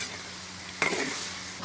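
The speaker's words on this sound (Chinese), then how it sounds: "好，兔子肉下锅炸。" Rabbit meat goes into hot rapeseed oil in a wok: a low, steady hiss turns into a loud, bubbling deep-fry sizzle, with a second sharp surge of crackling at the very end.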